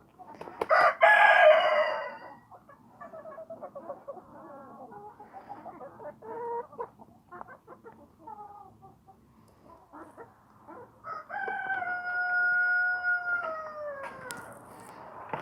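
A rooster crows loudly at the start, followed by hens clucking and murmuring nearby, then a long, drawn-out crow toward the end.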